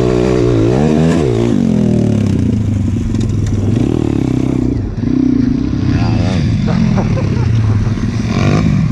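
An MRF 140RC dirt bike engine revs steadily and loudly throughout on a motocross jump track, the pitch rising and falling with throttle, with people talking over it.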